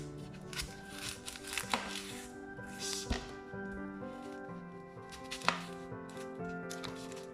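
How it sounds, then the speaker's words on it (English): A knife chops an onion into very thin slices on a board, several sharp, irregular cuts and taps close by, with soft music running underneath. "So first I'm going to clean the onion and chop it in very thin slices"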